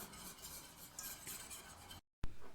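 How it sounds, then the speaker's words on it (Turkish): A spoon stirs vanilla into thick, nearly set pudding in a pot, giving soft, continuous scraping and swishing, a short break, then one more stroke. "Şöyle içerisine bir paket vanilya ekliyorum. Bunu da karıştırıyorum ve ocaktan alacağım."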